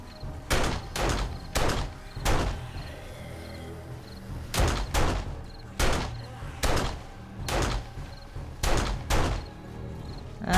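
Gunfire in the survival game 7 Days to Die (Alpha 19, multiplayer server): loud, sharp shots arrive in quick clusters of two to four, separated by short pauses, over a low ambient background.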